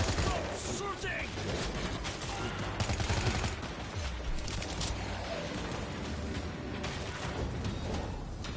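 Gunfire in the World War Z video game on hard mode: dense, continuous bursts of shots layered over loud game noise and effects, with a voice calling out during the action.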